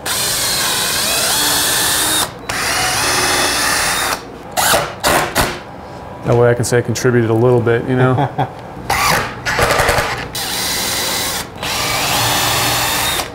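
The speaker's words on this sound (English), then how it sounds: "You want to pre-drill those ones?" A power drill whines in repeated bursts, close by, stopping and starting as it pre-drills holes in a wooden shipping crate, with a person talking briefly between runs.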